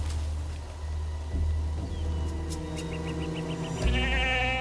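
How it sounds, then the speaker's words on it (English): A goat bleats, a short wavering cry that rises near the end over a low, steady background rumble. "It's another goat."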